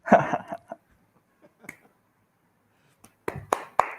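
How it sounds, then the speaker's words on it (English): A small audience at a Fête de la Musique event clapping along to live music, with a few sharp, isolated claps near the start and a burst of rhythmic handclaps toward the end, separated by quiet gaps. "this is where you guys need to clap, and I need to see you guys clapping"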